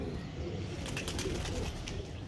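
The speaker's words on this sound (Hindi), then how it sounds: "इसने कबूतर खोले हुए।" Pigeons coo softly against a quiet outdoor background, with a few brief bursts of wings flapping nearby.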